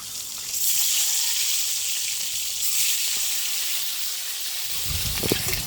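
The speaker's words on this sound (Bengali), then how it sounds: "কড়াইতে যা তেল আছে এর মধ্যে ডিম ভাজা করা হয়ে যাবে" Eggs frying in leftover oil in a kadai, a steady bright sizzle that carries throughout, close and fairly loud, with a few clinks near the end.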